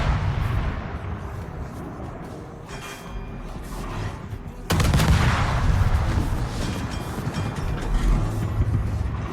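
Naval guns fire shells from warships in a video game battle, booming and rumbling densely with a sudden loud blast midway that leaves a heavier, continuous roar of gunfire afterward.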